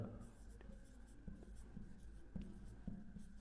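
Marker or chalk strokes on a classroom board, soft scratchy squeaks in short bursts while a teacher speaks in the foreground during an English grammar lesson.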